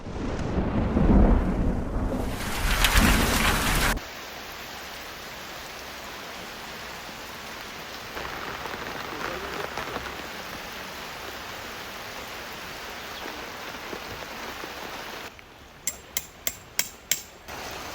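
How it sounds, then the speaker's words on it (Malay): Heavy rain falls at a jungle campsite, a loud roaring burst at the start, then a softer steady downpour, with a run of sharp rhythmic knocks near the end. "Petang tu hujan turun dengan lebat."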